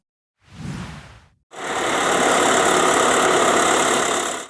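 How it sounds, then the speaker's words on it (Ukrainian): A tractor engine idles loudly and steadily at close range while thuja trees are planted in a city park square, with a brief rumble just before the sustained running begins. "Роблять це за допомогою трактора."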